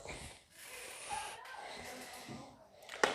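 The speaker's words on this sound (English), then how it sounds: "Hope I'm not breathing too loud, y'all." Close, soft breathing with a snort-like huff near the end, airy and hissy against quiet background noise.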